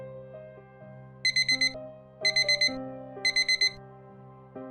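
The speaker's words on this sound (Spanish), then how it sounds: "con el sonido de la alarma irrumpiendo en mi tranquila habitación" An alarm clock rings in a quiet bedroom in the morning, three bursts of rapid beeping, each a cluster of about four quick tones, repeating about once a second over a soft background melody.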